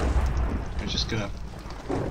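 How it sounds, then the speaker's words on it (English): Rain and rolling thunder in the Minecraft video game during a storm that has set a house on fire, a steady broadband wash with low rumbles, heard under talking voices throughout. "I think the rain's putting it out"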